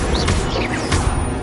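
A Stupefy spell cast in the video game Hogwarts Legacy: a brief, loud magical crack and whoosh amid dense game combat noise, over in just over a second.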